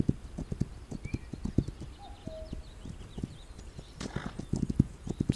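Horse hooves clip-clop at a steady walking pace in a western frontier video game, close and fairly loud, with a couple of brief whinny-like tones partway through and no talking.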